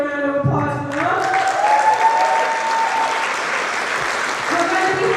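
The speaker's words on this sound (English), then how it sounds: "Let's give a round of applause for them." Audience applause for youth performers at a variety show, steady broadband clapping that fills the whole stretch with a tonal voice-like line rising over it early on.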